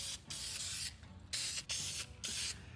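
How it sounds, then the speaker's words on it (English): Aerosol can of self-etching primer sprayed onto bare metal on a Toyota pickup truck cab, in four loud hissing bursts of about half a second each separated by brief pauses, close and without talk. "I'm gonna go ahead and hit this with a little bit of self-etching primer"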